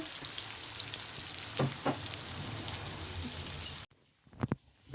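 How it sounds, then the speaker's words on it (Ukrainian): Zucchini sizzles steadily in a hot frying pan with crackling pops, close and continuous, then the sizzle cuts out abruptly near the end, leaving a few soft clicks. "перша партія у нас смажиться кабачки"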